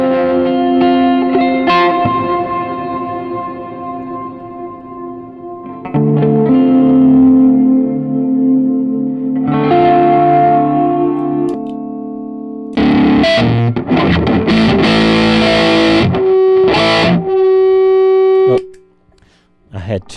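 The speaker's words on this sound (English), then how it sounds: "And that's too much effect on the delay, on the reverb." Electric guitar notes and chords drenched in excessive delay and reverb, ringing out with long washy echoes and distorted tails, loud and sustained with brief pauses.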